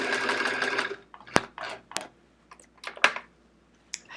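Sewing machine stitching in the ditch on a chevron quilt: a loud, steady whirring run for about a second, then short mechanical bursts and clicks as the fabric is adjusted, close to the listener.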